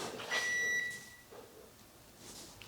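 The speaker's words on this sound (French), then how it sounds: "Pascal, est-ce que je peux faire tourner mon micro-ondes avec?" A large microwave oven starts up on a backup power station, with a sharp electronic beep and then a low steady hum of the running appliance, close and without speech.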